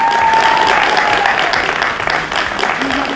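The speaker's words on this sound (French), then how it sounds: "on applaudit très fort pour vous" A studio audience at a televised prize-draw show applauds loudly for winners of 100,000-franc prizes, dense steady clapping filling the whole stretch, with a faint tonal whistle or feedback line and a brief voice near the end.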